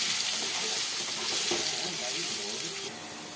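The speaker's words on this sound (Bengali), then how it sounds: "এবার এটাকে আলুটাকে ভালো করে ভেজে নেবো।" Potatoes frying in hot oil in a wok, a steady close sizzle with a watery hiss that runs throughout and drops slightly in level near the end.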